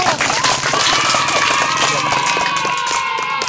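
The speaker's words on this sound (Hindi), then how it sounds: "फिर ताली बजाओ, ताली बजाओ।" A group of children claps together in quick, rhythmic beats at a live street magic and comedy show, with crowd noise and a sustained musical tone running underneath.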